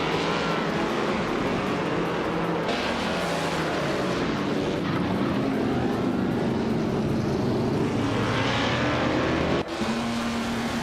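A 1951 Alfa Romeo 159 race car in a racing video game, its engine a steady, loud, continuous drone with shifting pitch, joined by other cars and a brief drop near the end.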